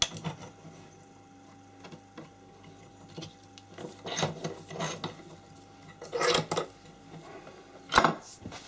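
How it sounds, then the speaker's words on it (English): A coarse file works a rough cast key, giving a few separate rasping strokes at irregular intervals, the later ones louder, over a quiet background. "So first thing, hack all the big bits off with a coarse file"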